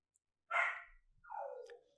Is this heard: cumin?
no